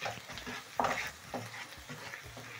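A spoon stirs salt into fish cooking in a frying pan, with a steady sizzle under a few close scraping strokes that come in short bursts, one sharper clink near the middle.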